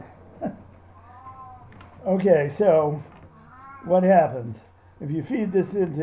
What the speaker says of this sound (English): If you can hear a noise in the background, it's my cat meowing.